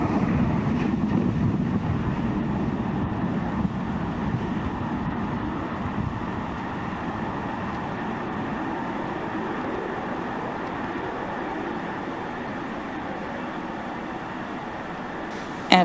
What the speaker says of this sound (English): And liftoff of Falcon 9. Go SpaceX, go Twilight.